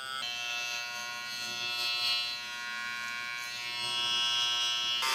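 An electric hair shaver buzzes steadily and close up during an afro haircut, its high hum shifting slightly in pitch as it moves against the hair, taking it down to full removal.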